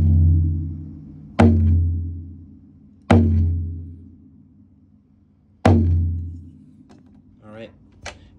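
A SmackPac tom drum, played without its silicone bowl lid, is struck three times at a spaced, uneven pace. Each hit is a sharp, close attack with a booming, slowly decaying low ring. A brief vocal sound follows at the end.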